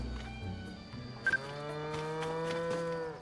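A sheep bleats in Zelda: Tears of the Kingdom, one drawn-out, wavering, nasal call rising clearly over soft game music, with a brief sharp chime partway through.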